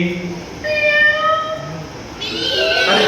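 A voice imitates a cat, giving a couple of drawn-out, wavering meows, close and fairly loud.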